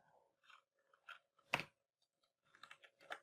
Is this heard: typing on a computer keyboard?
yes